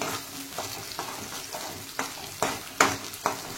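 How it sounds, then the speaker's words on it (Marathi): Matar paneer gravy frying in plenty of oil in a pan, a steady close sizzle broken by several sharp spoon scrapes and stirs that grow louder toward the end, with no voices. "आता ही चांगली 5 ते 10 मिनिटं आपण भाजून घ्यायचंय"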